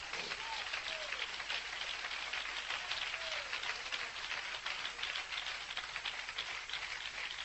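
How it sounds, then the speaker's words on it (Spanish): Church congregation applauding steadily throughout, a dense sustained patter of many hands, with a voice faintly calling out underneath. "A ver cuántos hay aquí que le dan un aplauso a ese Dios."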